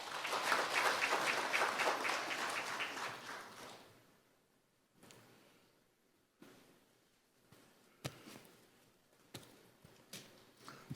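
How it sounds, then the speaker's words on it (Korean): Audience applause at a university president's inauguration ceremony, loud and sustained clapping from a large crowd for about four seconds, then fading into a quiet hall with scattered faint thumps and shuffles. "큰 박수로 맞이해 주시기 바랍니다."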